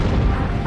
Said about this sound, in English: Amid intense anti-aircraft fire from both land batteries and ships in the harbor